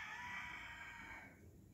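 A rooster crows once, close and fairly loud. The call holds for about a second, then trails off, with no talking over it.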